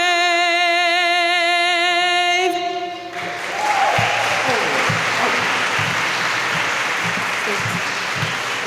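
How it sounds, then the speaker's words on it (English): After a tonal musical passage ends, an audience at a Hispanic Heritage Month opening ceremony breaks into loud, sustained applause, a dense wash of clapping that continues steadily for several seconds. "Let's give Beatriz a round of applause."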